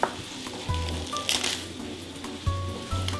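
Food sautés in a pan for a vegan Armenian stuffed cabbage dish, a steady soft sizzle with a few brief clinks and stirring scrapes close by.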